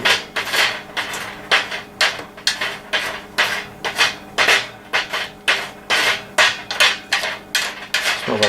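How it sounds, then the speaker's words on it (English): Roasting California bay nuts being stirred in a pan, a rhythmic series of about sixteen rattling, scraping strokes close up, each a short clattering burst of hard nuts shifting against the cookware. "So let's give these another stir here."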